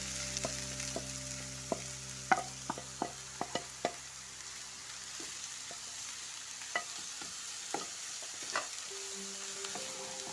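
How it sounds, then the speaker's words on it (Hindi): Capsicum, onions and green chillies fry in oil with a soft continuous sizzle, broken by sharp clicks and taps of a spoon stirring against the pan, busiest early and sparser later. "ये हमारी शिमला मिर्चें, प्याज और हरी मिर्चें हमने भून लेंगे"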